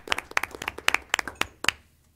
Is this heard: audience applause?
yes